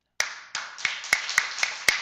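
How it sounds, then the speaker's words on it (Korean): Scattered hand claps from a church congregation during a Sunday sermon, a handful of sharp separate slaps at uneven spacing rather than a full ovation, close and clear with no voices over them. "우리 주 예수 그리스도께 감사의 박수를 한번 보내야 합니다."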